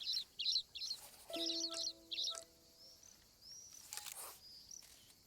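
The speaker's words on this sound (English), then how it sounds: "A house sparrow, Asso domestica." House sparrow chirping at a bird feeder in the video game Alba: A Wildlife Adventure, several short bright chirps in quick bursts, moderately close, with soft game sounds and chimes in the background.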